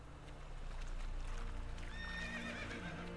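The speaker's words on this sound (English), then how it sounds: "He's on a horse." A horse in The Witcher 3 gives a short whinny near the end, above a steady low ambient rumble and faint hoofbeats, fairly quiet and with no talk over it.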